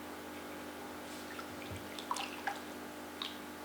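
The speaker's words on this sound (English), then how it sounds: "pop your foot back in the foot bowl and just rinse it off" A foot rinsed in a foot bowl of water during a home pedicure after a salt scrub makes faint, sparse drips and small splashes, with a few soft sloshes near the end and no talk.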